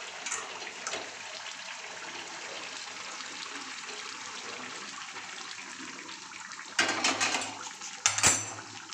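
Hot water tinted with red chili powder and turmeric pours into a pan of home-style chicken kosha curry, a steady hissing splash running for several seconds, followed by a couple of louder clattering splashes near the end.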